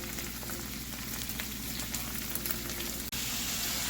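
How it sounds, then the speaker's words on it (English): Chorizo frying and breaking into small crumbles in a pan for chili, a steady dense sizzle with light crackling throughout, briefly cut off near the end before resuming. "I'm gonna let it fry up into little crumbles"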